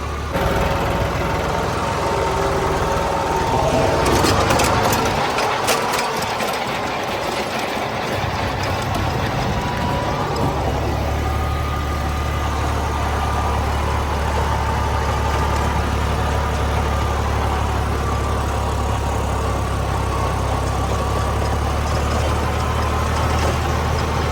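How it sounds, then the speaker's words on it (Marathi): A John Deere 5210 tractor runs a rotavator in a field, a steady droning engine and churning blade rumble holding throughout at close range, with no talk. "मागच्या साईडने जर पाहिलं ना तर फक्त रोटावेटरचा आवाज येतोय आपल्याला ट्रॅक्टरचा एकदम सायलेंट आवाज आहे"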